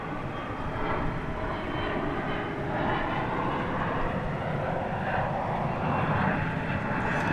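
An American Eagle Embraer 175 lands at DFW Airport at night with a steady, fairly loud jet engine roar that holds throughout, with no voices over it.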